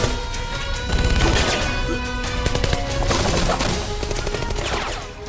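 Shootout in a Steven Seagal action film, dense overlapping gunfire bursts and impacts over a loud musical score, continuous and chaotic with no clear pause.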